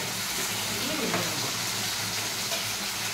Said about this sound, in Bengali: মেটে আলুগুলোকে ভালো করে ভেজে নেব।